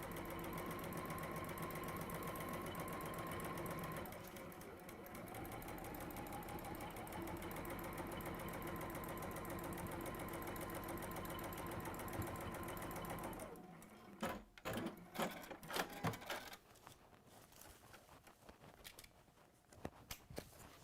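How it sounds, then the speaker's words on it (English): A sewing machine stitches quilt pieces onto the sides of a square in a workshop, a fast, steady mechanical whirr that runs for about thirteen seconds, then stops and gives way to scattered handling clatter. "we're just sewing these onto the sides just to make that square"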